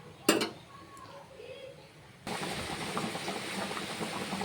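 Pointed gourd and shrimp curry in a pot coming to a boil, giving a steady close hiss and bubbling that rises suddenly and then continues, with a brief clatter before it.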